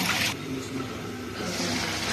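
Water pours into a pan of simmering ridge gourd and tomato curry, a brief steady splashing hiss that is loudest at the start, heard up close.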